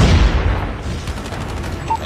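Video game gunfire cracks in a loud burst at the start, then tails off into a booming echo with a few fainter shots.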